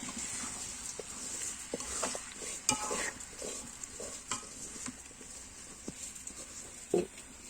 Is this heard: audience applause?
no